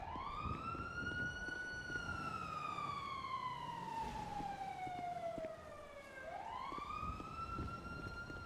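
A police siren from the GTA roleplay game NoPixel wails loud and close, a long falling tone that sweeps up again near the end, heard alone over faint background noise.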